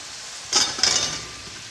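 Fried potatoes are tossed in a spice masala in a pan: two quick scraping clinks of a spoon against the pan, close and brief, over a quiet background.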